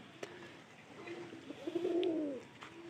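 Pigeons coo inside a loft, a soft rolling coo rising and swelling near the end over quiet background hum, with a few faint clicks and rustles of birds moving nearby.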